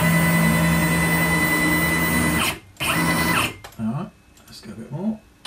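CNC machine ball screws running after an Ethernet control upgrade, a loud steady mechanical whine that cuts off briefly, then returns and fades into quieter intermittent motor sweeps.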